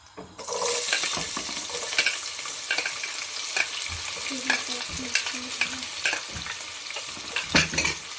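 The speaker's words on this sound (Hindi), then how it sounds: "तो अब हम बिस्मिल्लाहिर्रहमानिर्रहीम ऑनियन डालेंगे।" Onions fry in a pan for a spinach and potato curry, loud continuous sizzling with frequent stirring scrapes and clinks of a spoon against the pan, no talking.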